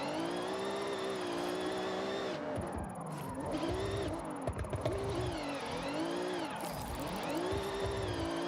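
Car engine in Forza Horizon 6, a steady droning hum with rising and falling pitch as the car accelerates and shifts gears, continuous throughout with faint background talk.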